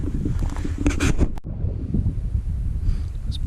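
Breezy outdoor wind in a Texas slot canyon on a chilly day: continuous low rumbling gusts buffeting the microphone, loud and close, with faint rustling and no talking.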